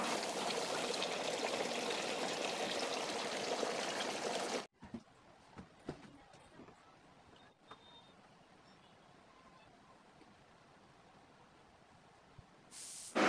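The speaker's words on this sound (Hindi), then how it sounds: "चलिए मैं आपको दिखाता हूँ कि इसमें पानी कितना गिरता है और कैसा गिरता है। पानी गिरना शुरू हो गया है।" Water falls and trickles through the honeycomb cooling pads of a Hindware 85-litre air cooler, first as a steady, fairly loud pouring rush, then dropping to faint scattered drips and dribbles.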